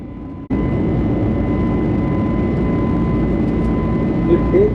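Steady, loud broadband roar of an airliner cabin shortly after take-off, a constant engine and airflow rumble with a faint tonal hum, continuing without break.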